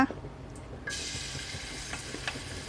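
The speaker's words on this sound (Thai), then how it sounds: "เอาเครื่องที่เราตำนี้ลงนะคะ" Pounded bird's eye chili and garlic hit hot oil in a wok for pad krapow with minced pork and bamboo shoots, a sudden steady sizzle starting after a quiet moment and continuing close and loud.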